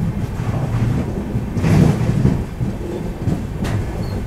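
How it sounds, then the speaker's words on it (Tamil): The Kerala Express train arrives at a station, a close, loud low rumble of rolling carriages with faint rhythmic clatter and wind buffeting the microphone. "கேரளா எக்ஸ்பிரஸ் இன்றைக்கி சீக்கிரம் வந்துட்டான்"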